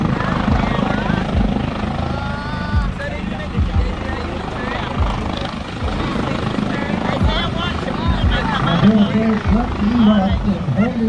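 A helicopter flies at an airshow in the Cayman Islands, its steady rotor and engine drone running loud throughout, with a commentator talking over it.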